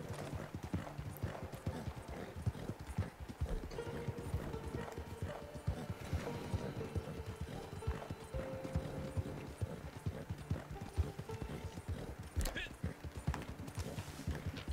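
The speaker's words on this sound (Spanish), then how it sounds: "No, el caballo va solo." Horse hooves clip-clop in a steady, rapid rhythm in a video game, faint and continuous, with a brief whinny partway through and no talk over it.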